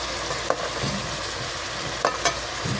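Tilapia pieces frying in a pan, a steady close sizzle with a couple of brief louder crackles or stirring scrapes, no talking.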